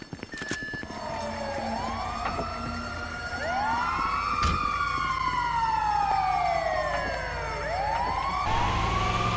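Ambulance siren in the GTA 5 video game, wailing in long rising and falling sweeps, loud and close, continuous over engine rumble for about nine seconds.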